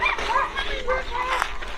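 Dogs at an animal sanctuary's old-dog area bark and yip in short bursts under steady background talk from a nearby group, the barks fairly close and repeated.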